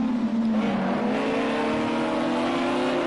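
GT3 race cars in Project Cars 2 at the Daytona sportscar race, engines howling and revving steadily on track with a rising pitch as they accelerate, loud and continuous with no talk.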